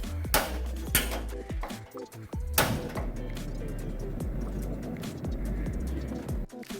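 A Rinnai RY9002SST gas stove with a brass turbo burner lights with a few sharp ignition clicks and whooshes, then settles into a steady, strong roar of flame.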